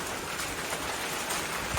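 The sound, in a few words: hail and rain falling at night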